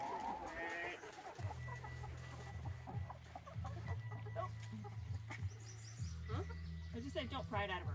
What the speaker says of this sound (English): So many chickens.